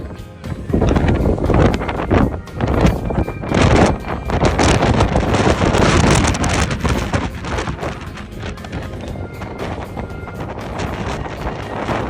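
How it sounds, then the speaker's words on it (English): Loud, steady wind roars and buffets the microphone throughout on coastal cliffs on a rainy, foggy day, a constant rushing blast with gusty surges and no voices. "It was extremely windy and rainy and foggy."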